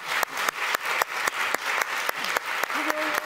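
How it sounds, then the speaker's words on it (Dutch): An audience at a community talk about Amsterdam gives a warm round of applause, with dense, steady clapping and a few louder individual claps standing out at regular intervals, and a faint voice briefly audible. "Geef ze alle drie een warm applaus"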